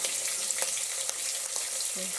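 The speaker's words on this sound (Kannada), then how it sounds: "ಈರುಳ್ಳಿ ಹಾಕ್ತಾಯಿದ್ದೀನಿ. ಹಸಿರು ಮೆಣಸಿನ್ಕಾಯಿ ಎಲ್ಲ ಫ್ರೈ ಮಾಡ್ತಾಯಿದ್ದೀನಿ." Onion, green chillies and kasuri methi fry in a pan, giving a steady close sizzle with a few soft scraping stirs and no talk.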